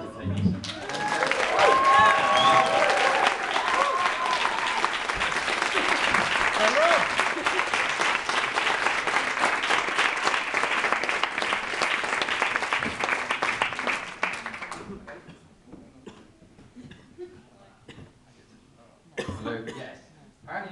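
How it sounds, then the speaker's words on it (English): Wedding guests burst into loud, sustained clapping with whoops and cheers for a toast in a crowded room, lasting about fourteen seconds before dying away into quieter murmuring and brief talk. "Can you clap very loudly, whoop, and cheer, and maybe wave your arms around like idiots?"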